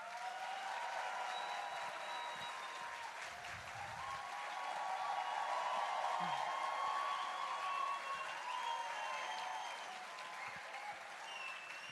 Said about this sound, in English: A big applause to Sadhguru.